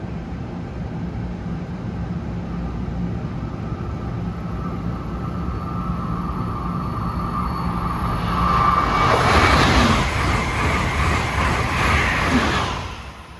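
An Amtrak Acela Express high-speed train heading from Boston to Washington arrives through Princeton, first a distant low rumble that swells into a loud broadband rush as it passes close, then fading slightly at the end.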